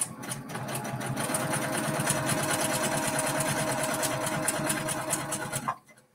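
A sewing machine stitching diagonal seam quilt binding, needle-down with a knee lift, runs in one long steady rapid whir up close before stopping abruptly near the end.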